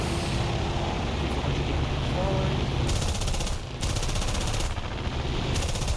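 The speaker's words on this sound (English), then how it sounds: "See the machine gun just shredding them. This is why I love the Hurricane machine guns." Machine guns on a Hurricane fighter firing during an air battle in War Thunder, a dense continuous rattle with bursts starting and stopping over steady engine drone, while a voice talks throughout.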